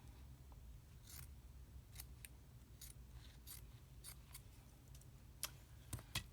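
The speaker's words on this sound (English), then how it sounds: "I'll have to cut a strip off of here." Scissors snip through paper for a tulip craft, a series of crisp, close cuts spaced irregularly, with a quick cluster of snips at the end over low background hum.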